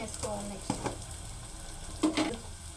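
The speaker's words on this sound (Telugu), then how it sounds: "పసుపు వేసినాక ఇట్లా కలుపుకోవాలి మంచిగా కలిసే వరకు" Dry prawn curry with turmeric stirred in a hot pan: a low, steady sizzle broken by several sharp spoon scrapes and clacks against the pan, with no talking.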